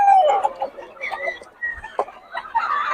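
Roosters and chickens offered for sale at a fowl market cluck and crow in short, overlapping bursts close by, with a voice talking among the calls.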